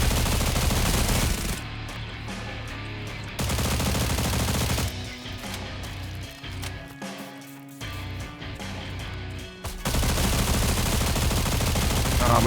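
Machine gun fire in Stalcraft X, loud close sustained automatic bursts with short pauses between strings of shots, ending in another long heavy burst.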